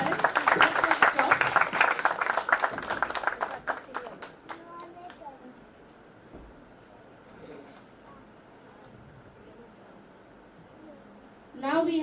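Parents in an audience applaud students at a school science fair, loud dense clapping at first that thins out and fades away, followed by near silence before another short burst.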